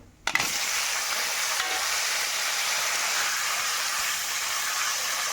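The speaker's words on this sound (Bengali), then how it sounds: "ভেজে নিচ্ছি ভালো করে আলুটা ভাজা ভাজা হোক আলুটা ভাজা হচ্ছে" Diced potatoes hit hot oil seasoned with cumin seeds and bay leaf, giving a sharp opening crackle that settles into a loud, steady, unbroken sizzle with no talking.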